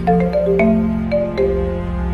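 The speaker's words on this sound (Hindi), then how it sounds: "फोन की रिंग बजी" A phone ringtone plays a short, bright electronic melody, loud and close, with no voices.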